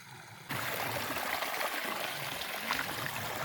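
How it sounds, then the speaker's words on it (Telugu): Flowing water from a farm field channel rushes up abruptly and continues as a steady, close, splashing stream with no voices. "కిందనైతే కొంచెం నీళ్ళు అయితే వస్తున్నాయి ఇక్కడ పొలం నీళ్ళు"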